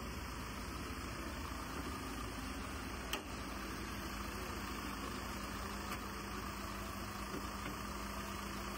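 A 2024 Ford Everest Trend 4X2 automatic with its hood propped open, engine idling with a steady mid-range hum and faint vibration, one brief knock near the middle, no talking.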